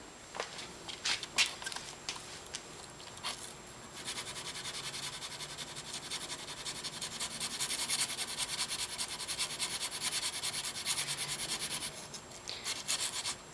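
A knife blade being sharpened on a 320 grit stone, a steady close gritty rubbing that runs on without a break and grows louder and denser toward the end.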